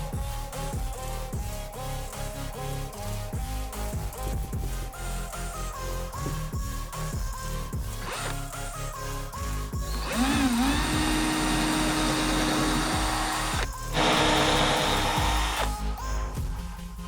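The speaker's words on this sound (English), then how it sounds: "So I have to drill into it first" A power drill runs in sustained high-pitched bursts, its pitch shifting as it bites into hard teak wood, loud and close.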